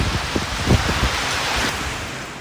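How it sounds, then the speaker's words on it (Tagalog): A typhoon in Batanes brings a steady, loud wash of rain, strong wind and big waves, a dense broadband roar with a few brief thuds and no voices. "Ramdamang malakas na hangin na may kasamang pag-ulan sa Batanes kaninang umaga."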